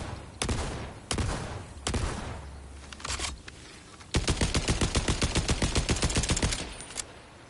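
In the video game Borderlands 4, a Jacobs gun fires a few heavy single blasts in shotgun mode, spaced under a second apart, then switches to a long, rapid full-auto burst, loud and close with no talk.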